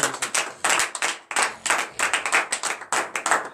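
A church congregation at morning prayer claps in acclamation, close, loud and rhythmic, with bursts of rapid hand claps in an uneven, lively pattern.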